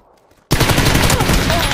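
Gunfire erupts in PUBG on the Karakin map, a sudden loud burst of rapid automatic shots following a near-silent moment and continuing as a dense fusillade.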